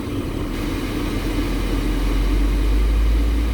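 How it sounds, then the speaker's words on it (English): A car engine rumbles low and steady while the gas pedal is pressed lightly, the idle building into a mild rise near the end, close and continuous, with no voices. "Watch, I'm going to hit the gas a little bit."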